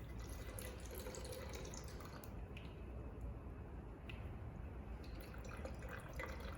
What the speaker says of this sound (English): let the water drain out of there freely